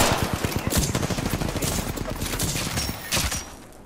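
Rapid bursts of automatic gunfire from a heavy weapon in the video game Apex Legends, a dense volley of shots running nearly continuously and fading toward the end.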